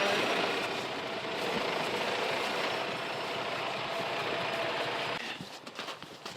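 A skid steer engine running close by, a loud steady broadband roar for about five seconds that then drops to a rougher, quieter idle.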